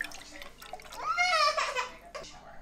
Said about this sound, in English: I think we need to pour it into a different cup to see the viscosity.